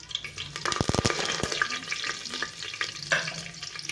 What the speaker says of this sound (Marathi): आता टाकणार आहे आपण पाच सहा कडीपत्ताची पानं आणि थोडासा खडा मसाला टाकलेला आहे